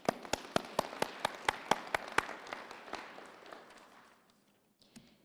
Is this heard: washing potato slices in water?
no